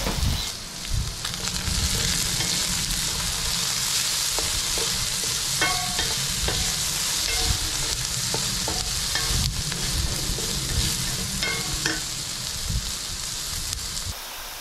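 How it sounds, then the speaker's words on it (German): Diced onions and garlic softening in a pan over low heat for an oriental chicken couscous, a loud continuous sizzle broken by irregular scraping and clicking stirs, with no voices. "geben die Zwiebelwürfel und den Knoblauch mit dazu und dünsten dieses für weitere"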